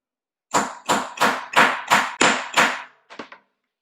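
A hammer strikes a letter stamp into a metal blank on a hard, flat table: seven sharp, ringing blows at a steady beat, then a quick pair of lighter taps, close and loud with no speech.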